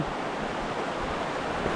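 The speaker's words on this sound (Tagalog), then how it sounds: "Yan po ang ating ilog oh." A river swollen after a typhoon runs muddy and fast, giving a broad, constant rushing wash of water that fills the scene evenly, with no speech.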